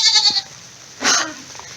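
A goat out in the rain gives two loud, close bleats separated by a short pause, with faint rain patter underneath and no talk.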